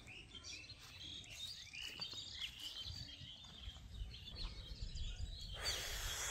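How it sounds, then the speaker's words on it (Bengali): Morning birdsong beneath an old banyan tree: scattered chirps and tweets layered over steady insect buzz and soft ambient hiss, a brighter burst of calls near the end, no talking. "পাখিদের সুন্দর সুন্দর ডাক,"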